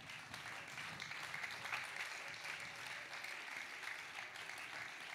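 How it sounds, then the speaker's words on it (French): A church congregation applauding steadily, a dense, even wash of clapping from many hands held at a low, distant level with no break. "Si tu veux acclamer, il faut bien acclamer"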